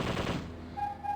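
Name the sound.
machine gun fire in the video game Zombie Revenge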